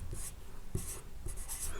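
Pen strokes scratch on paper in short bursts as someone writes Hindi consonants by hand, close and quiet with no speech over them.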